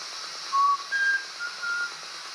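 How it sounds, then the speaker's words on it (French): Someone whistles a short tune of four or five clear thin notes over a faint steady background hiss. "Je vais siffler"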